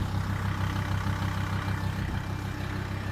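An engine runs steadily at a garage, a continuous low rumbling drone with a faint throb that stays even and fairly quiet throughout, with no talk over it.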